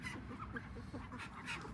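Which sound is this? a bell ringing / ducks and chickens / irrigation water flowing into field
ducks and chickens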